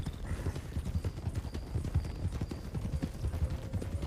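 Horse hooves clip-clop steadily in Red Dead Redemption, a regular rhythm of soft, close thuds over low background noise, with no talk.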